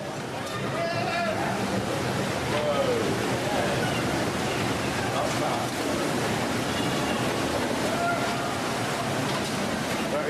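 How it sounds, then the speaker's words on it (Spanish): Heavy tsunami surf pounds against a seaside hotel complex during the 2004 Indonesian disaster, a continuous loud roaring wash of water and wind with faint voices audible underneath. "otro turista británico grababa las mismas olas, rompiendo contra su complejo hotelero"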